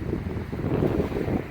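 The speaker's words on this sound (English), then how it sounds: "kind of windy" Wind blows on Manitou Island by a moored boat, a steady low rumbling buffet against the microphone with a faint wash of water underneath.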